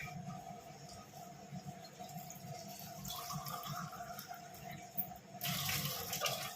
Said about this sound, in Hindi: पानी भर लेती हूँ इसमें से।